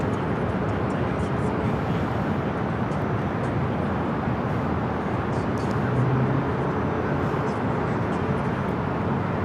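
An Airbus A330neo jet departs runway 24 Left at Los Angeles International Airport, heard as a steady, broad engine roar that holds at a constant level throughout.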